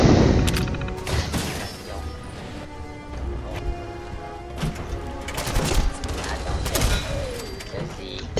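Gunfire from a weapon in Fallout 4, a series of sharp shots and heavy impacts over a busy game soundscape, with crashes and mechanical clatter mixed in.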